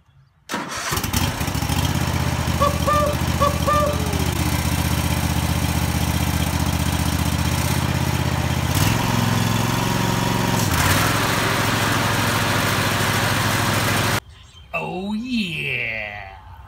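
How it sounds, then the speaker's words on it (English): Cub Cadet i1046 zero-turn mower engine running loud and steady at close range for about fourteen seconds, with a brief dip in pitch partway, then cutting out abruptly near the end. "It is a zero turn tractor."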